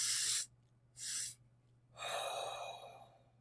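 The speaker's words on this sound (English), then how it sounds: "the double inhale, exhale, or physiological sigh breath" A person demonstrates a double-inhale physiological sigh, two sharp breathy inhales through the nose followed by a long, slow exhale, close and clear with no talking.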